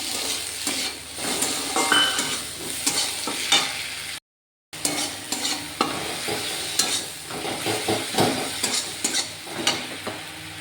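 Chopped tomato fries in a pan, stirred with a utensil that scrapes and clinks against the metal over a continuous sizzle, broken once by a brief silent gap.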